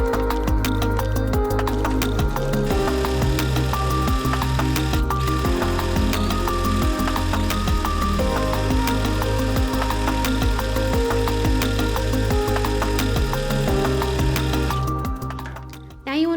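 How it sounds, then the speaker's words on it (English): Sewing machine running a zigzag stitch along a fabric edge, a close, steady mechanical rattle with rapid rhythmic clicking that continues nearly unbroken before stopping near the end. "you can go ahead and use a zigzag stitch along the edge"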